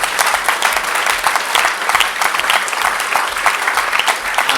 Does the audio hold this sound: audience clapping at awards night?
yes